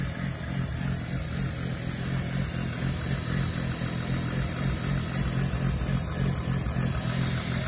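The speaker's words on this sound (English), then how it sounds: "Good old VW engine" The VW engine of a 1997 Winnebago Rialta 22RC motorhome idling, a steady, even low rumble that holds unchanged throughout with no voices.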